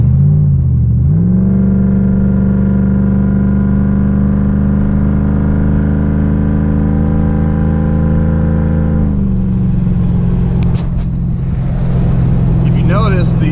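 A cammed truck with a 3,000-RPM stall torque converter revs up sharply, then holds a loud, steady engine drone for several seconds before the pitch drops and the engine falls back toward idle. Close-up and dominant throughout.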